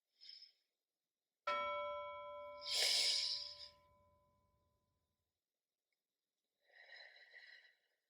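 A single bell strikes once and rings out, its tone slowly fading, followed by soft breathing in and out.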